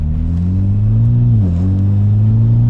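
A 500hp Mitsubishi Evo 10 engine idles fully warmed up, a loud close steady rumble with a slight dip in pitch midway, alone without talk.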